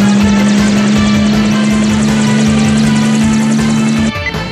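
A helicopter drones steadily and loudly, with a constant engine hum and whirring rotor noise over a dense, busy background, shifting near the end.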